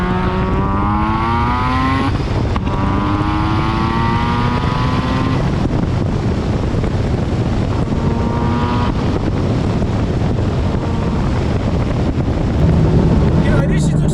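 A 500 WHP Mazda RX7 FD3S rotary engine revving through gears while driving, its loud buzzy note rising and falling with each shift, heard from inside the car under steady wind and road noise.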